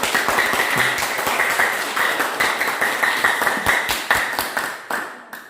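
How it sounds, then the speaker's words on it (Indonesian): Steady applause from a class group after a presentation, dense hand claps filling the room for several seconds before starting to thin out at the end. "Tepuk tangan."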